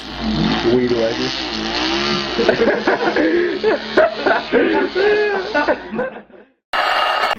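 A voice imitates a chainsaw with close, loud revving buzzes that rise and fall in bursts, breaking off into a short silence before another harsh burst.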